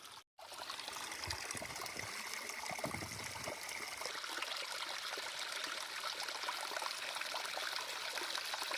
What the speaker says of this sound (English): it's really nice to be coming across streams so often